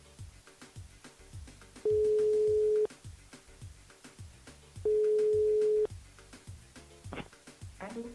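A telephone ringback tone sounds as a radio host calls a listener on her mobile: two steady one-second beeps separated by a pause, over a faint background murmur.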